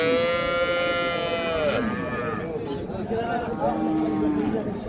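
A Holstein Friesian cow at a cattle market in Cumilla lets out a long, loud, nearby moo that fades out, followed by a shorter low call, while people talk in the background.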